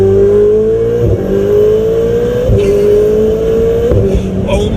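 A Ferrari 488 Spider with a turbocharged engine accelerates hard from inside the cabin, a loud rising engine tone climbing through three quick gear changes, each marked by a brief dip and thump before the pitch climbs again.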